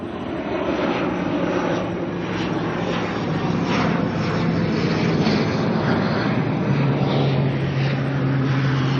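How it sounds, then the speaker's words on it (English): An ATR turboprop airliner arriving at Auckland Airport from Napier drones steadily throughout, a loud, continuous engine and propeller roar with a low hum and broad rushing noise, and no talk over it. "grab this ATR that's just coming in from Napier this morning"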